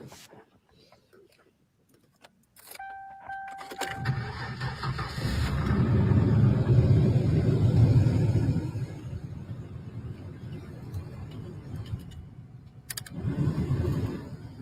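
A Mercury Cougar XR7, probably fitted with a 3.8 liter Essex V6, starts with a brief crank and then catches into a rough idle that swells before settling, with a second rev near the end and people talking nearby.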